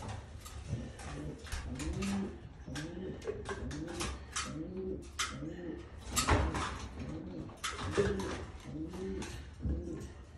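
Pigeons in a home loft cooing in a steady repeating rhythm, close and fairly soft, with faint knocks and rustles in the background.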